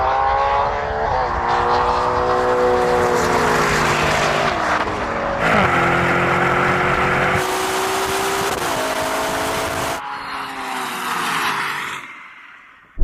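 A Ferrari Purosangue and a Lamborghini Urus SUV accelerate hard side by side in a drag race. Loud engines climb through several gear changes with rising pitch, then the roar fades sharply near the end.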